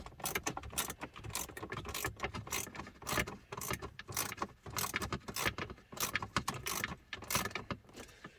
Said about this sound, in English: And we're just going to unscrew this.